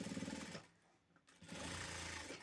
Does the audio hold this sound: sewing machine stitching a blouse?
yes